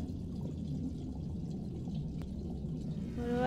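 Water draining in the horror game I'm on Observation Duty 7: a steady low gurgling, pouring rush that holds at an even level, with a faint ringing tone creeping in near the end.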